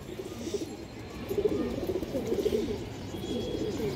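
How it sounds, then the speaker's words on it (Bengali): A female silver bagha pigeon with ringed eyes coos in a repeated low rolling pattern at moderate volume, close by, with no voices over it. "সিলভার বাঘা মাদি কবুতর"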